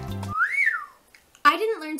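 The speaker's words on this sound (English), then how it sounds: "I didn't learn to whistle until I was in high school." A person whistles a single rising-and-falling tone, clear and close, followed by a pause and then speech.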